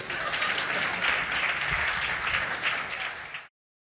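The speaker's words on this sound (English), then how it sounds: "And now you can applaud me" A conference audience at a World Malaria Day event claps steadily for a departing speaker, a moderately loud, even round of applause that cuts off sharply after about three and a half seconds.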